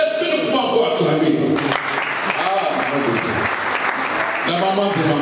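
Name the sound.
audience applauding and cheering at a church service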